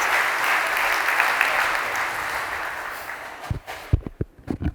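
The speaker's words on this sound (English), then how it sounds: "Let's please give another round of applause for the three entrepreneurs who came up here today" An audience at a business pitch event applauds three entrepreneurs: a dense, steady wash of clapping for several seconds that thins into a few scattered, louder individual claps before stopping.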